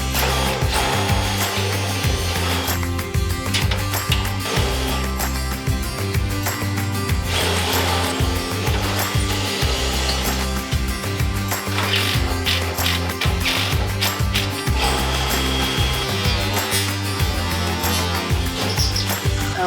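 A power drill whines and chatters steadily as it bores quarter-inch holes into wood, with a ratcheting, grinding texture that continues loud and close throughout.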